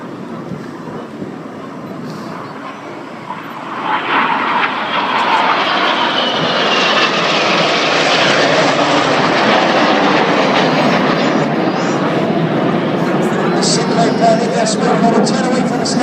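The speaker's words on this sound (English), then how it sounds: "These 4 aircraft now descend to just 100 feet. They're closing at 850 miles an hour." Red Arrows jets making a low pass at 100 feet during an air display in Jersey, a loud roaring rush that builds and then holds steady and powerful, with a voice over a loudspeaker beneath it.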